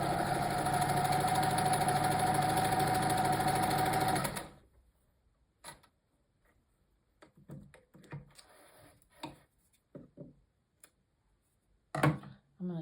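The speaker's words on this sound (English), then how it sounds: "I'm going to sew these together." A sewing machine stitches fabric pieces together along a quarter-inch guide for flip-and-sew quilting, running in a loud, steady whir for about four seconds before stopping. Faint clicks and handling noises follow.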